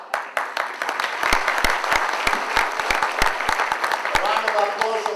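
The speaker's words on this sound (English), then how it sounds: "A round of applause for Matthew Mironis." An audience claps steadily throughout, a warm wash of many hands with sharp individual claps standing out.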